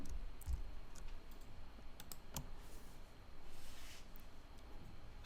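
Soft, close clicks of a computer mouse and keys at a desk during Adobe Photoshop editing, scattered single taps over a steady low room hum.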